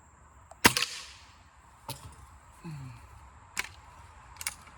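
A Crosman F4 pellet air rifle fires a single sharp, crisp crack, followed by a few fainter clicks and knocks from handling in an otherwise quiet setting.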